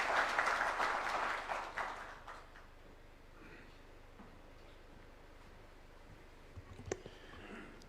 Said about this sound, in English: Let's welcome him with a warm clap.